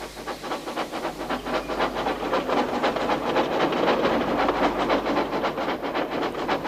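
Steam locomotive from a Thomas and Friends episode hauling coaches, with steady rhythmic chuffing and clickety-clack of wheels on rails, a soft hiss underneath, continuous and fairly close throughout.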